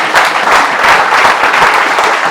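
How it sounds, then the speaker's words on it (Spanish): A church congregation applauds during a Spanish-language sermon by a bishop, with steady, dense clapping that stays loud from start to finish and has no talk over it. "Vamos a darle un aplauso al Señor."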